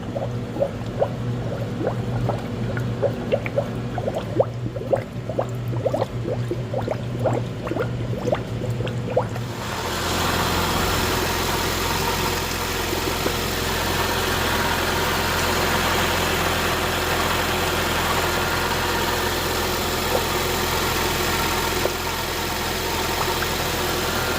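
A 2022 Honda Civic 2.0-liter engine, fresh from a water pump replacement, idles steadily with a constant low drone, while the first few seconds carry liquid dripping and bubbling from the cooling system being bled.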